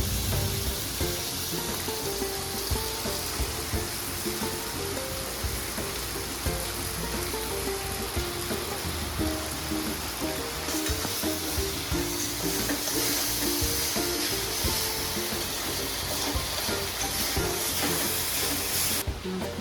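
Washed flattened rice and pre-fried peanuts sizzle in a hot pan while being stirred. A dense, steady frying hiss runs loud and close throughout, with no voices.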